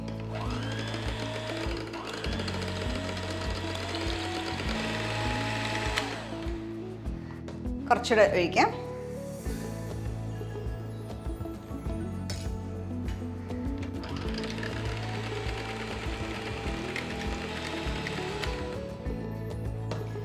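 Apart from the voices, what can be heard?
beating lime-thickened black forest pudding mixture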